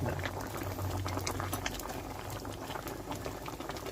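Fish curry of tilapia with mustard paste and raw banana bubbling at a steady rolling boil in a pot, a dense continuous hiss and crackle of bubbles, close and fairly loud throughout, with no talk.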